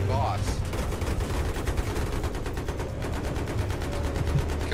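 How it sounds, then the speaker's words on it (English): Rapid automatic gunfire in a Battlefield 3 public multiplayer match, with dense overlapping bursts rattling continuously for several seconds alongside vehicle rumble and occasional game voices. "A bunch of guys sitting there shooting into B."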